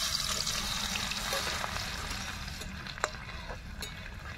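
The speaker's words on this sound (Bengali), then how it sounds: "তো প্রথমে আদা কুচি আর রসুন কুচি ভেজে নেব।" Chopped garlic and ginger fry in a pan over a wood fire of sal wood, a continuous crackling sizzle with occasional sharp pops and stirring scrapes, with no talk.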